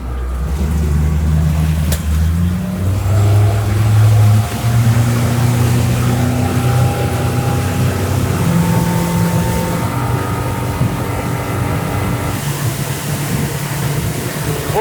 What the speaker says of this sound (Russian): На лодке Феникс 560 с мотором Mercury Pro XS CT крейсерская скорость это 42-43 км в час.